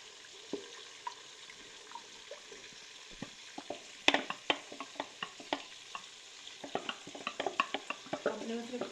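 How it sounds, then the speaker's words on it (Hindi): Chopped onions sizzle softly in a pan for a beef handi kabab masala. A spoon stirs them, making frequent scraping clicks and taps that grow busier and louder in the second half. "इसमें जो हमने प्याज जो चॉप किया था वो शामिल कर देते हैं।"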